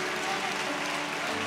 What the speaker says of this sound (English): Can we clap our hands unto him again?